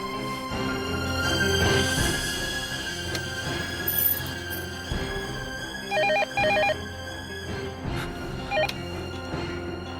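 A telephone rings in a domestic drama scene, its bell tone sounding in repeated short bursts over a background music score, with no talking.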